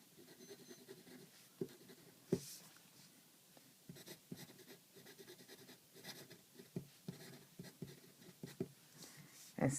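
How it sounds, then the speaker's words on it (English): A fountain pen scratching across paper at close range, with soft irregular strokes and small taps, quiet and steady throughout with no talking. "I will quickly write a sentence for you. And you can hear."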